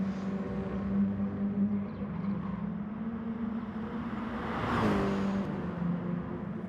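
Mini Cooper race car engine held at steady high revs through a turn on a racing circuit, a continuous strained drone that swells briefly as the car passes.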